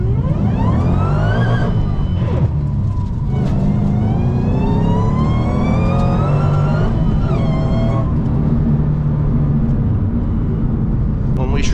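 A 2007-2009 Ford Shelby GT500's supercharged engine revs hard again and again, its slipping blower belt squealing in rising and falling pitch over the loud engine roar.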